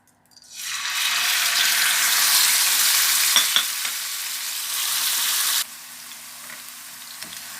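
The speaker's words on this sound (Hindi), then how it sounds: "अब इन्हें फ्राई पैन में डालती हूँ। 2 चम्मच फ्राई पैन ऑयल डाला है। अब इसको थोड़ा सा इसमें भुनेंगे बैंगन को" Eggplant pieces hit about two spoons of hot oil in a frying pan and set off a loud hissing sizzle. It holds steady for several seconds, with a few clinks, then drops to a quieter fry.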